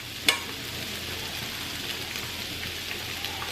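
Butter, a little oil and garlic sizzling in a frying pan, a steady even hiss with a sharp clink at the start, no talking.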